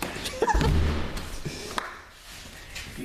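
A stuck front door of a rental house gets pushed and thumped, a few dull thuds and knocks over background noise, loudest near the start.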